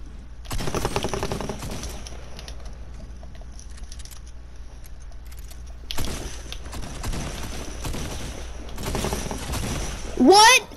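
Sniper and other gunfire in the video game Fortnite, bursts of sharp shots and rattling fire at about half a second, six seconds and nine seconds over a steady game backdrop, with a voice heard briefly.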